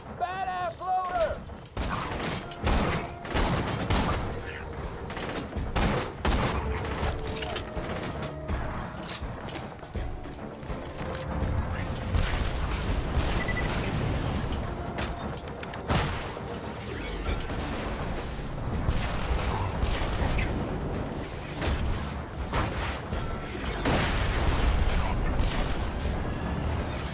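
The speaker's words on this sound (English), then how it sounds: "Rocket launcher does not appear to be very effective against this." Rocket launcher fire in the Borderlands 2 video game, dense repeated blasts and bangs in a steady, chaotic stream of combat noise over nearly half a minute, with voices talking over it.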